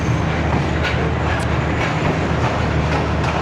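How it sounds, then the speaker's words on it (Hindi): Shalimar Express train rolling slowly through Khanewal Junction without stopping, a loud, close, steady rumble heard from on board, with periodic rail clacks and squeaks at even intervals. "खानेवाल जंक्शन पे ट्रेन नहीं रुकी, आहिस्ता आहिस्ता करके यहाँ से रवाना"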